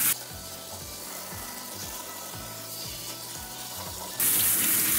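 A grooming shower sprays hard and steadily as a dog's coat is soaked down to the skin, a dense hissing rush that runs unbroken, with a few low thumps underneath.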